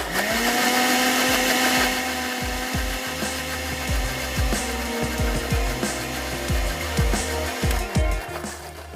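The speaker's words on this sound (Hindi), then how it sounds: "इसको एक दफ़ा और ब्लेंड कर लेते हैं।" A blender grinds soaked Kashmiri chilli paste for chutney, its steady motor whine loud and continuous, with repeated knocking thuds as the thick paste churns and shifts against the jar.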